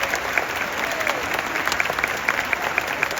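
An audience claps steadily and densely at a live show by a pop singer, with a few sharper claps standing out above the continuous applause.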